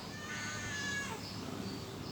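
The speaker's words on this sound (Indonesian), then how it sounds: "Ayo kucing apa betul, ayo kucing nyamperkeun." A cat meows once up close, a drawn-out, fairly loud cry over a low steady background hum.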